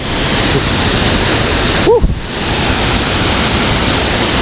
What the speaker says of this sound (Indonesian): Asli debit airnya air terjun ini besar banget.